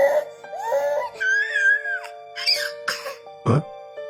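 A baby screams and wails during a meal, rising into shrill, pitched cries with a coughing, choked burst near the end; loud and close, with no talk.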